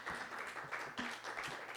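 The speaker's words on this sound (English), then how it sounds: "thank you for that tepid round of applause" A small crowd at a live magic show gives a tepid round of applause: a thin, steady patter of clapping that holds for under two seconds at moderate distance.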